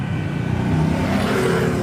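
A motor vehicle revs loudly and passes close by at night near an old sugar factory, a steady dense engine roar with no talk over it.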